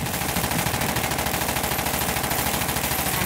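An auto turret fires in World War Z Aftermath, a dense, continuous burst of rapid machine-gun rounds, loud and close, steady for the whole stretch without pause.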